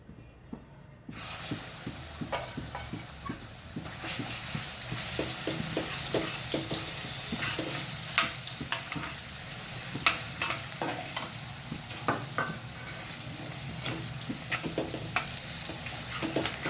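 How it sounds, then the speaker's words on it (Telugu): Chicken pieces frying in a pan for chicken fried rice, a constant sizzle with frequent sharp scraping and clinking strokes from a stirring utensil, close and fairly steady throughout. "మనకు చికెన్ మంచిగా ఫ్రై కావాలి చికెన్ ఫ్రై చేసుకుంటాం కదా"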